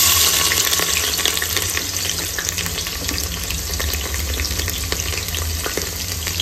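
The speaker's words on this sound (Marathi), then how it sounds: "त्याच्यामध्ये आता आपण टाकणार आहे कांदा. तर चला मी कांदा टाकून घेतो आतमध्ये." Chopped onion sizzles and fries steadily in hot oil with roasted masala for masale bhaat, a loud continuous crackle with occasional stirring scrapes, no talking.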